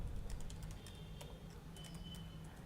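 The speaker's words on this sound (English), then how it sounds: "while n is greater than 0, I will type" Typing JavaScript code on a computer keyboard, a steady run of light key clicks at close range with no talking.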